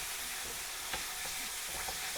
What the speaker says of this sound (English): So we can come back to our mince here, see what's going on. It's now ready to be stirred a bit.